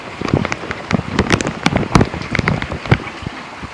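Heavy rain falls in big drops during a thunderstorm in Vancouver, Washington, pattering loudly and irregularly on a nearby surface with sharp, close splats and no talking.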